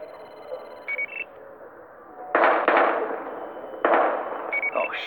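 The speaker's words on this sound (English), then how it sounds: "We've got gunshots." Gunfire in the police shooter game Battlefield Hardline, with two loud, sharp bursts of shots at about 2.3 and 3.8 seconds over a steady background of game ambience, plus a few brief electronic beeps.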